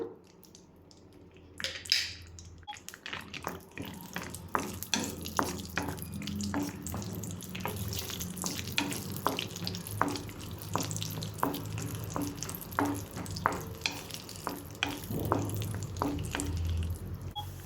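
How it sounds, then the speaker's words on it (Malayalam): Cashew nuts fry in hot ghee in a pan for Vishu sabudana payasam, with a steady close sizzle and crackle and frequent sharp spatters and clinks of stirring throughout, and no talk. "നെയ്യ് ചൂടായി വരുമ്പോൾ കശുവണ്ടിപ്പരിപ്പ് ഇതിലേക്ക് ഇട്ട് കൊടുക്കാം"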